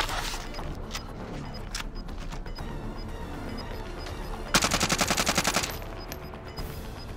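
A Krieg rifle is fired in Call of Duty: Warzone, a rapid burst of close, loud shots lasting about a second, set among scattered game sounds and background noise.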